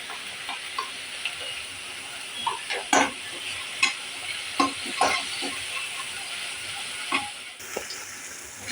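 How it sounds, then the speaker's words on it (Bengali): Onion, ginger and garlic paste with salt and turmeric frying in a pan, a steady sizzle broken by repeated stirring scrapes and clinks, close and continuous with no talk. "এবার এটাকে একটুখানি ভাজা ভাজা করতে হবে।"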